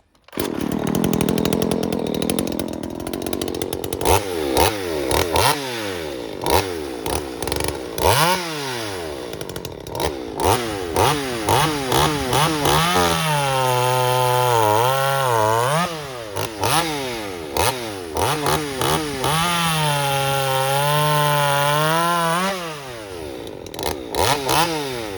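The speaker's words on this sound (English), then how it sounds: "Now we'll get the Poland Wild Thing non-strato older style out and see how she rips. 42 cc's." An older non-strato Poulan Wild Thing 42cc chainsaw roars close and loud, revving up and down repeatedly, then settles into long sustained cuts through wood with bogging and recovering engine pitch.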